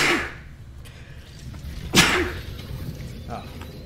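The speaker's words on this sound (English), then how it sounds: "I'm gonna sneeze." A single sharp sneeze bursts out near the middle, close and fairly loud, over a continuous low background rumble.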